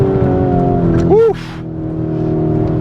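A Lamborghini Urus Performante engine holds a loud, steady drone from inside the cabin, with a brief rising rev or shift partway through before settling back, as a voice talks over it.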